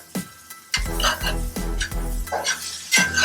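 A spatula scraping and stirring eggplant and crispy chicken around a hot pan, with several sharp metallic scrapes and clinks over a soft sizzle, close and irregular, with no talking.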